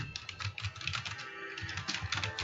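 Rapid, steady keystrokes on a computer keyboard while entering a value into an Excel spreadsheet cell, close and fairly quiet, with no talking.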